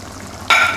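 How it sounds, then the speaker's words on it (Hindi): Half a kilo of yogurt drops into a hot chicken biryani pot, a sudden loud hiss bursting up after a quiet moment and holding to the end. "और इसमें 1/2 किलो दही डाल देंगे"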